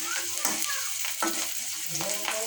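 Boiled tender young greens frying in hot oil, a steady close sizzle with scraping stirs recurring every second or so; no one talks.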